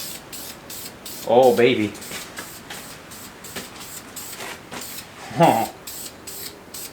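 Short bursts of aerosol spray paint hiss onto a Chevy 350 small block engine, two distinct sprays separated by pauses, with a man's brief exclamations in between.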